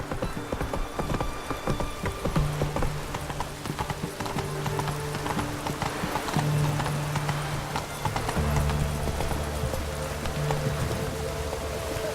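Roach the horse gallops in The Witcher 3 video game, rapid rhythmic hoofbeats clip-clopping steadily throughout, with soft rain-like ambience and low musical tones underneath.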